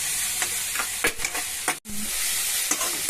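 Carrots fry in a pan for bottle gourd curry, a steady close sizzle punctuated by repeated spatula scrapes and stirs, with one brief dropout midway.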